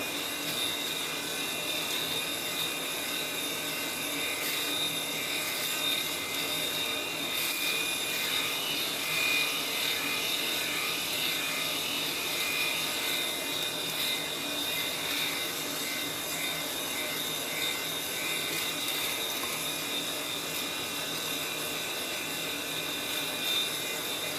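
A Norelco electric shaver runs across a face with a steady, close, even buzz that continues without a break, with no talking.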